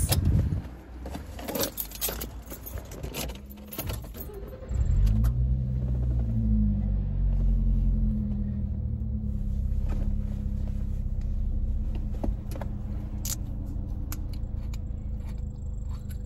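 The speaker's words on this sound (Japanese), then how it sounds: "よしそれでは車に乗って" A car is started and driven off: keys jingle and a door thuds early on, then the engine turns over and settles into a steady close rumble that continues to the end.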